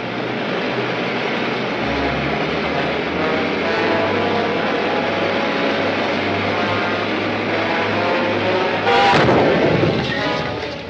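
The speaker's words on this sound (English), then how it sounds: "I'll use the gun." A ship's deck gun fires in a science-fiction film serial with heavy, sustained booming blasts and rumble over about ten seconds, ending in a sharper burst, loud and close.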